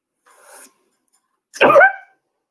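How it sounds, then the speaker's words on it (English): One loud, close sneeze bursts out near the end, preceded by a faint breathy intake about a second earlier. "my sneezes are very loud"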